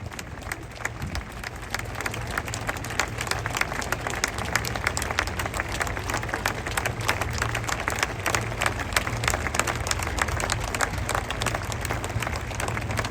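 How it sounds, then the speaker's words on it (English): A large outdoor crowd at the Braemar Gathering in Scotland applauds the arrival of the King and Queen with sustained, dense clapping that carries on steadily, with a low rumble underneath. "Keep up that great applause as we welcome both their Majesties the King and Queen to Braemar Gathering here today."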